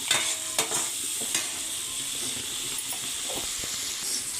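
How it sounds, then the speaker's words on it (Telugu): Onions with turmeric frying in a pan for aloo rice, a steady close sizzle and hiss with a few scrapes and stirs against the pan and no voices. "మనం బాగా కలుపుకొని ఉల్లిపాయలు మగ్గేంత వరకు ఫ్రై చేసుకున్నాం"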